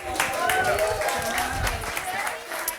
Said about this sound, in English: So let's give a round of applause for Will.